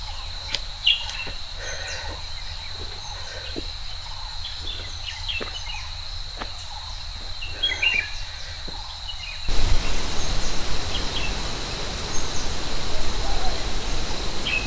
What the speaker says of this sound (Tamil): வித்தியாசமான நிறைய பறவைகளோட சத்தம் கேட்கும்